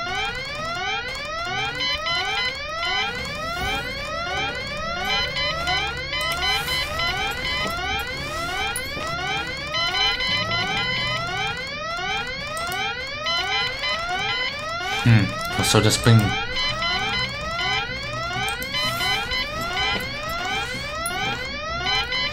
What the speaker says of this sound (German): Hilfe! Alarm aus!